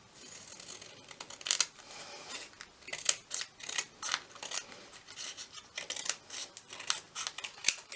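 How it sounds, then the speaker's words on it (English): Scissors trim paper down to the width of double-sided tape in a run of close, crisp snips, a quick irregular series of short cuts with brief pauses between them. "we're just going to trim down to the size of the double-sided tape"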